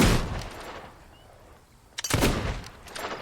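A single loud gunshot cracks in Fable 2 and fades away, followed by quiet ambience and then a second burst of sharp, close blasts near the end.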